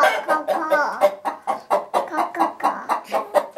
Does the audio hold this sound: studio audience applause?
no